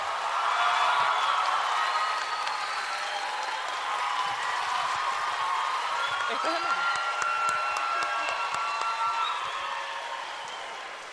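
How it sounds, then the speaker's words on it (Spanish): Audience at a book fair in Bogotá applauding an author, a dense, steady wash of clapping that holds for about ten seconds and slowly fades at the end, with scattered cheers mixed in. "Por favor, Bogotá, un aplauso para Mario Mendoza."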